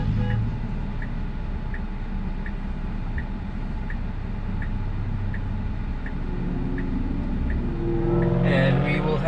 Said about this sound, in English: there's a bit of a traffic here.